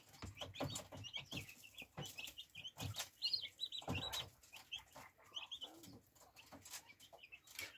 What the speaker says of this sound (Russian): Вот такие вот цыплята.